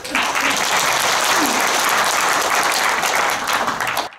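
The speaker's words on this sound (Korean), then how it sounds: "감사와 환영의 박수를 올리기를 청합니다." A seminar audience gives loud, sustained applause to welcome the guest speakers, a dense wash of many hands clapping close and continuous from start to finish.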